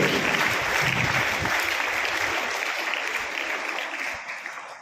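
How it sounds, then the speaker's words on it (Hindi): A school audience claps loudly and continuously for the students at a board results event, a dense applause that slowly tapers off toward the end, with no talking over it. "एक बार जोरदार तालियां बेटियों के लिए।"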